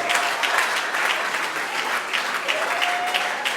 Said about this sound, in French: Un tonnerre d'applaudissements pour Maman Annie.